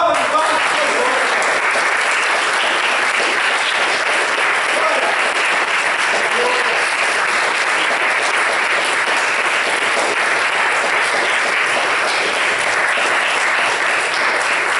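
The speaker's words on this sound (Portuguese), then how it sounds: "Uma salva de palmas para o Senhor." A church congregation claps together in sustained, dense applause after a call to praise the Lord, loud and steady throughout with no pauses.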